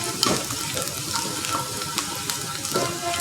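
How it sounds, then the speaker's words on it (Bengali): Chopped garlic frying in oil in a pan, a steady close sizzle with a few light spatula taps and scrapes over a short stretch, no voices. "রসুন কুচিটা আমি ভেজে নেব।"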